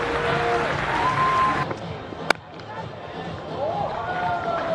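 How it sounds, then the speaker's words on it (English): Crowd applause and cheering rolls on in a large stadium at a Sri Lanka vs India test cricket match, with a commentator talking over it and a sharp crack partway through. "standing up and applauding this wonderful innings"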